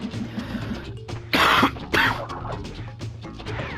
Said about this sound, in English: Coughing up blood, man.